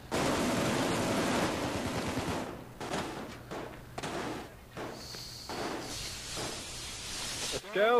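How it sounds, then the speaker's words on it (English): Gunfire in the video game Payday 2 crackles in a dense burst at the start, then thins to scattered shots and game noise, fairly faint in the mix. "Oh, there's the gunshots."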